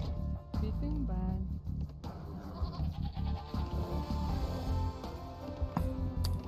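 Sheep bleat repeatedly in Age of Empires 2, with wavering animal calls scattered through busy in-game sound effects and background noise, and no clear voice on top.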